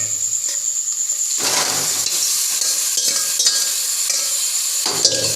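Chicken stirred into onions and ginger frying in a pan: a steady close sizzle with scraping and clanking of a spoon against the pot, several louder stirring strokes, no voices.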